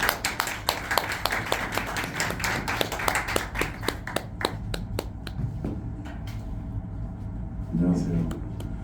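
A modest audience at a book launch talk claps to welcome a speaker. The crisp handclaps are nearby and dense at first, then thin to scattered claps as a voice starts near the end.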